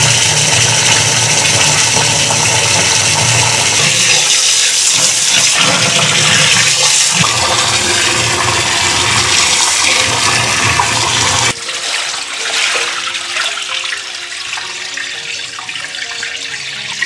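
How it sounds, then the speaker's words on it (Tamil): Raw white rice is washed in water for making idiyappam flour, a loud continuous rush and slosh of running water that shifts to a lighter trickling, splashing texture partway through, with no talking. "இப்போ நம்ம பச்சரிசியை 4 முறை நல்லா கழுவிட்டு"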